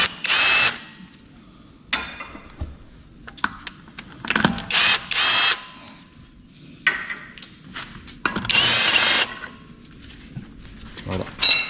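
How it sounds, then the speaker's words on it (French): A DONG CHENG three-speed impact wrench loosening wheel nuts, heard as several loud bursts of hammering whir of varying length separated by pauses, with quieter handling noise in between. "Donc vous pouvez démonter une roue, voilà, avec la clé à choc, tranquille."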